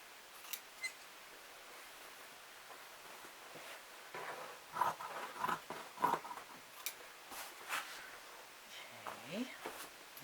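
Scissors snip through a T-shirt being cut apart for a memory quilt, a run of close, crisp cutting clicks and rasps in the middle seconds, with quiet room noise around them.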